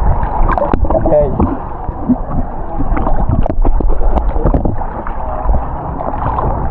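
Strong sea waves slap and splash against a small boat off Palawan, a steady churning wash of water with gurgles, while people talk over it throughout.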